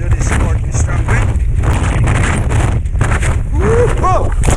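Strong wind buffets the microphone at sea during a foggy kitesurfing downwinder, a loud continuous low rumble with gusty surges throughout and a brief whooshing flutter near the end.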